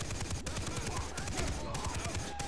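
Rapid automatic gunfire rattles in the co-op video game Far Cry 3, a loud, close stream of shots broken by brief pauses, with no talking over it.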